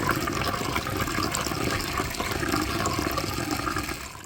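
Steady rushing of 4.5 cups of water pouring into a pot, continuous and close, with no talking.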